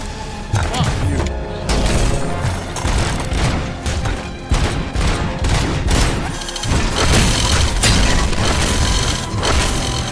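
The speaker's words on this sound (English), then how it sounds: "Stop shooting me." Loud, sustained video game gunfire keeps going throughout: dense volleys of rapid shots and bursts with booms and clattering hits, and no clear pauses.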